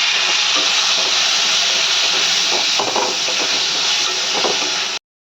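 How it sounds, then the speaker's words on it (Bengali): Spice paste with salt and sugar sautéed in a pan as steady loud hissing sizzle, with a few spatula scrapes and knocks, close and continuous until it cuts off abruptly near the end, no talking. "সব দিয়ে একসঙ্গে মশলাটাকে কষে নেব"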